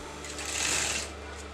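A sewing machine stitches pleats into fabric for a Patiala salwar, a short fast whirring run that swells and fades within about a second.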